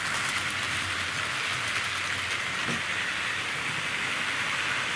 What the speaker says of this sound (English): Clattering over the points and diamonds.